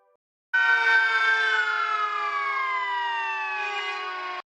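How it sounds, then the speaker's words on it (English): A loud wailing siren holds a steady rising-and-falling tone, alone with no voices, starting abruptly and ending after a few seconds. "That's a fire truck."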